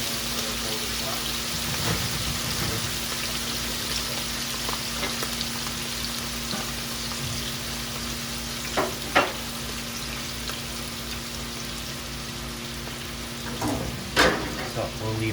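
Onions sizzling in a frying pan, crisping toward golden brown in the kitchen while a sirloin steak is cooked; a steady, moderately quiet crackling hiss with occasional louder pops and light clinks, no talking.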